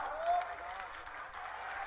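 Crowd applause at a Haryana rally as an international singer and anti-drug brand ambassador is welcomed, a dense steady wash of clapping throughout with an announcer's voice over it.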